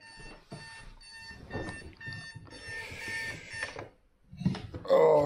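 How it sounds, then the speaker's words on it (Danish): An alarm clock rings in a home on a hot summer morning, giving off repeated bright electronic beeps in irregular bursts, with brief pauses and some background rustling. "Vækkeuret ringer her."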